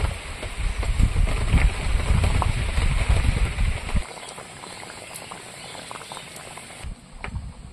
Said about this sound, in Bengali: আমসল ফুটছে